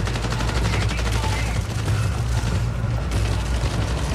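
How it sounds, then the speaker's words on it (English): Gunfire in the video game Marathon, a dense, continuous barrage of rapid shots over a steady roar of loud noise lasting throughout. "Did I just hear a gunshot?"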